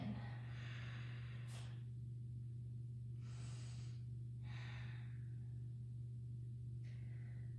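Several soft, audible breaths in and out during a beginner vinyasa yoga flow, spaced a second or two apart over a steady low hum, fairly faint and close.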